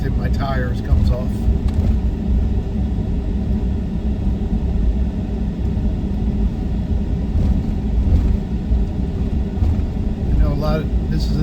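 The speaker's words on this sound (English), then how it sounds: "we're going to have an extra bumpy ride until all the sand that's caked in my tires comes off." A car rolls along a sandy post-hurricane beach road in Port Aransas, Texas, with sand caked in its tires, giving a continuous heavy low rumble and steady road noise throughout, close and loud.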